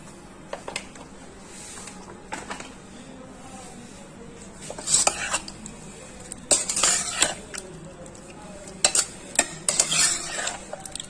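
Chicken being mixed with yogurt and oil in a pot, bursts of wet stirring and clinks of a spoon against metal, close and intermittent with quiet gaps between strokes.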